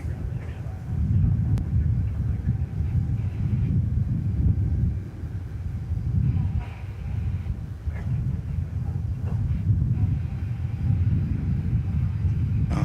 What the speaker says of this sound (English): So here's the big Speedbird coming in just a few minutes ago.